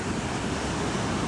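Ocean waves washing onto a beach in light morning rain, a constant broadband rushing wash with wind buffeting the microphone, no voices.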